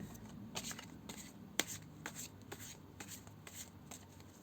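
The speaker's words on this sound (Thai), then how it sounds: "เดี๋ยวขอสับไพ่ก่อน" A deck of cards is shuffled before a horoscope reading, giving soft rapid riffles and papery slaps in quick bursts with one sharper snap, quiet and close with no talking.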